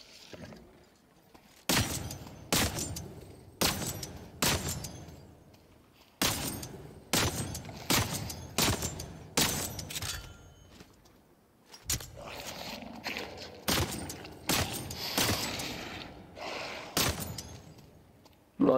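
Gunfire in The Cycle: Frontier: repeated sharp single shots in quick clusters, loud and close, with brief pauses and clattering between volleys and a denser string of shots near the end.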